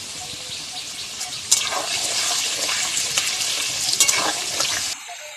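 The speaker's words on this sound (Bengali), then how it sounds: "তোমরাও ঠিক আমার মতনই আলু ভেজে নেবে" Potato pieces frying in oil with salt and turmeric give a loud, steady sizzle close up, continuing for about five seconds before it cuts off abruptly.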